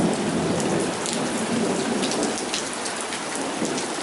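Steady, dense rain pouring down during a severe thunderstorm with frequent lightning, a loud continuous hiss with thunder rumbling underneath throughout.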